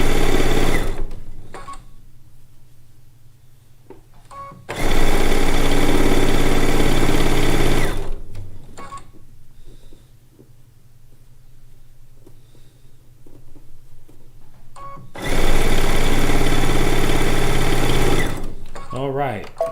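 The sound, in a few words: sewing machine sewing quilt blocks together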